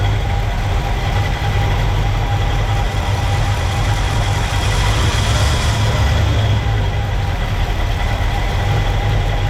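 A barn-find 1964 Pontiac Catalina V8 running on high idle after decades of sitting, a loud, steady, close rumble with an even low throb and no pauses.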